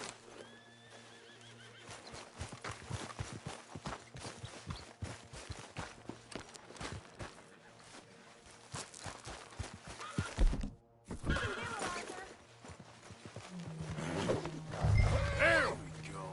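Horse in Red Dead Redemption 2 clip-clopping at a walk with soft thuds, then a loud, close whinny near the end; a voice speaks briefly under the hooves.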